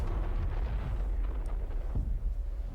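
Heavy bursts of gunfire and booming blasts roll through a loud, dense mix of trailer sound design for a new survival-horror game, with no speech over it.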